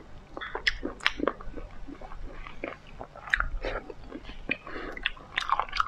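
Cooked oysters being chewed up close, with repeated soft wet bites and squishy mastication sounds in an irregular rhythm, loud and alone with no talking.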